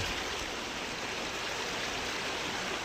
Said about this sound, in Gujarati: જુઓ કેટલી સ્પીડ છે પાણીની આખા નાળા ઉપર થઈને જાય છે